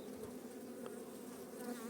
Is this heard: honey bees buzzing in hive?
yes